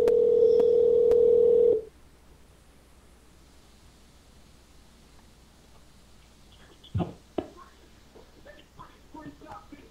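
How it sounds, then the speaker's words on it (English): A phone line being dialed to call someone back during a live broadcast: a steady loud tone for about two seconds, then quiet line hiss with a few short faint clicks and beeps. "I'm ringing him back in"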